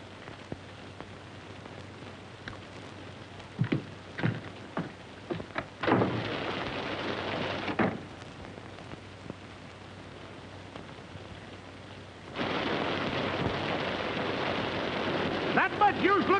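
A heavy storm lets rain pour in loud washing bursts between quieter stretches, with rumbling thunder-like crashes near the start and middle.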